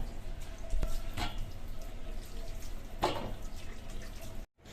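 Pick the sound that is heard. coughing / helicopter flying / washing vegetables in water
washing vegetables in water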